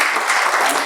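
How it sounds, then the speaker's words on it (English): Short burst of audience applause at a community gathering of around sixty people, dense and steady clapping at close range for under a second. "Clap for yourself."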